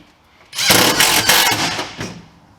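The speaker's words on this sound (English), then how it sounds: "all we do is just cut through the screws, put the blade on an angle to minimise our gap" A power saw blade cuts through screws in the rear floor pan of a Ford XT Falcon, a loud, harsh grinding burst of about two seconds that starts abruptly, holds steady with slight surges, then tails off.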